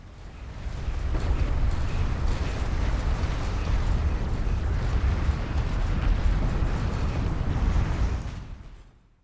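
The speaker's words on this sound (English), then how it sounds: "The last sound I want to hear from the Sakala is her hull exploding." A carrier's hull blowing apart in the Homeworld: Deserts of Kharak video game, a loud sustained rumbling explosion with crackling bursts lasting about eight seconds before fading out.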